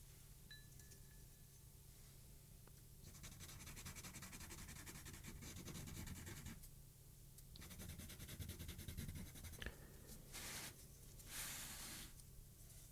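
An old pencil sketches a World of Warcraft map of Kalimdor on paper, giving soft, close graphite scratching in long continuous strokes with brief pauses, quiet and intimate with no voice.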